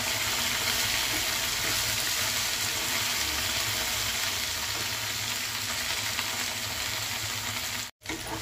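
Okra sizzles steadily in hot oil in a pan, a loud, continuous bright crackle that runs unbroken almost to the end before a brief cut.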